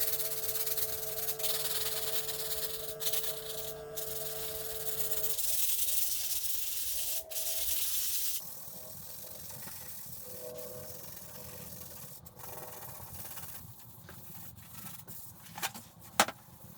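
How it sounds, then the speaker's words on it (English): Hand sanding with 320 grit sandpaper on the painted surface of an antique truck door, a steady close scratchy rubbing with back-and-forth strokes, alone without talk. "Now I'm going to try a piece of sandpaper."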